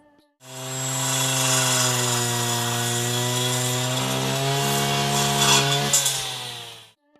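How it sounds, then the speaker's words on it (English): Brush cutter weeder fitted with a rotating blade cutting grass in a field, a loud, close, continuous high engine whine that bogs slightly toward the end, then quickly cuts off. "Rotating cutting tool of the weeder throws small stones and pebbles on the front side."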